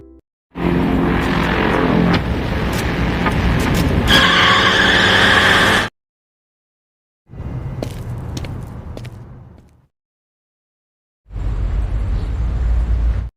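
In a film scene, a car running with no driver skids and strikes a woman, heard as loud bursts of tire and engine noise separated by sharp silent cuts.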